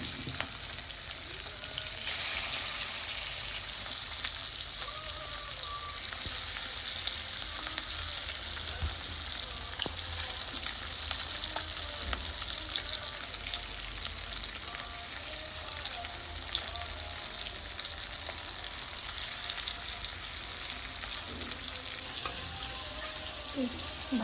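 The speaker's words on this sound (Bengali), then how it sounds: "প্যানে তেল দিয়ে মাছগুলো তুলে দিয়েছি।" Bhetki fish pieces fry in hot oil in a pan, a steady dense sizzle with faint crackles running unbroken and fairly even from start to finish, with no voices.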